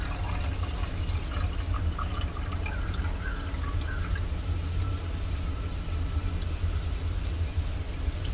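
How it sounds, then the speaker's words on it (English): Water pours steadily into the bottom chamber of a small metal moka pot, a continuous trickle and splash over a constant low background hum. "we'll fill up the water just to the bottom of the pressure release valve"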